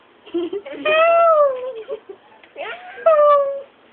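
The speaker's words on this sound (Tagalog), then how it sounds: "Si Elway the cat." A cat meows twice, close and clear, with drawn-out rising and falling cries; the first is longer and the second follows after a brief pause, with small chirps between them.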